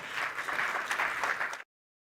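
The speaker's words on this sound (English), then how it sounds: "Let's give him a round of applause." Audience applause welcoming a panelist at the launch of a consumer goods and services ombud annual report, a steady burst of clapping from a crowd that stops abruptly after about a second and a half.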